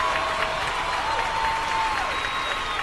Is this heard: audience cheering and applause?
yes